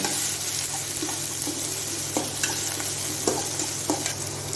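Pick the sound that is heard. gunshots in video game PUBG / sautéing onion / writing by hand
sautéing onion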